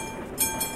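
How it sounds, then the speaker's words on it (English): A train passes a railway crossing in Euro Truck Simulator 2, a steady rolling hum with two sharp high chimes of the crossing bell ringing over it in under a second. "Even the railway crossing sound."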